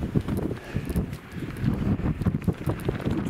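Gusty wind at a wild camp near Coniston in the Lake District buffets the microphone in uneven rumbling bursts, a rough, blustery noise filling the whole stretch.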